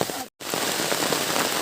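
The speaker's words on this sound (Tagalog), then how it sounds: "Ayan, umulan na, malakas ang ulan." Heavy rain pours down in a rural Bicol province setting, a dense, steady hiss of drops on surfaces that breaks off for a split second and then carries on at full strength.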